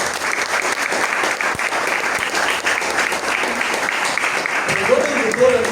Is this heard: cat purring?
no